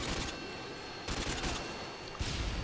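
Sustained AK rifle fire in a first-person shooter match, a continuous rattling fusillade broken by brief shifts around one and two seconds, loud and close with no talking.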